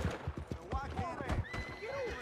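Horse neighing in a video game, a rising and falling whinny over hoofbeat-like thuds and game noise, with several players talking over it.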